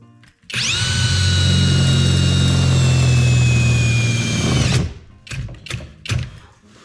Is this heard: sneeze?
no